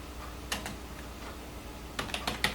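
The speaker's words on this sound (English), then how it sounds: "Just type in nano" Scattered keystrokes tap on a computer keyboard, a couple of single presses followed by a quick burst of four or five clicks, faint and close over a low background hum.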